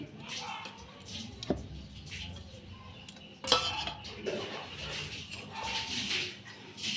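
Ground spice paste being added to fish, with metal utensils clinking and tapping against a bowl or plate, a couple of sharper clinks standing out, close by while a person talks over it and a dog whimpers faintly.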